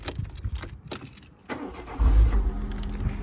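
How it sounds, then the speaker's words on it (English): A Peugeot 207 starts up: a key clicks and jangles in the ignition, then at about two seconds the engine catches with a low, loud rumble that settles into a steady idle close by. "So turn the car on."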